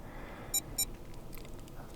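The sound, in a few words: Samsung Galaxy SmartTag 2 second beep during factory reset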